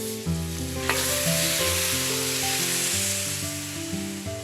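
Hot fresh butter sizzles steadily in a pan, a continuous close hiss with a constant low hum beneath it and no voices.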